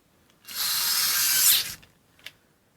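A WORX WX242 4V lithium-ion electric screwdriver slips its clutch after over-torquing, letting out a loud, steady ratcheting buzz for about a second and a half before stopping, followed by a single faint click.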